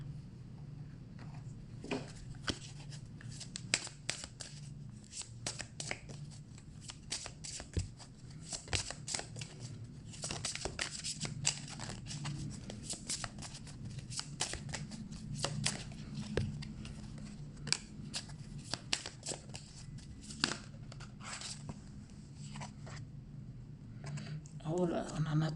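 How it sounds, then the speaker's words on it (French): Tarot cards are shuffled by hand for a reading, a run of quick papery riffles and flicks up close, with a quiet voice speaking in between. "On va prendre 2 cartes pour finir le tirage."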